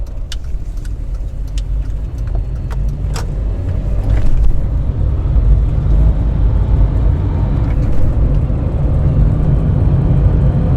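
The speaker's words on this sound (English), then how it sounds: "this is an incredibly noisy car" A loud, rumbling car engine runs continuously with a heavy low drone, a few sharp ticks and clicks over it early on.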